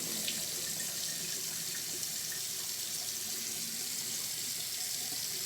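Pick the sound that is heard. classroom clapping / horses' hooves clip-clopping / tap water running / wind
tap water running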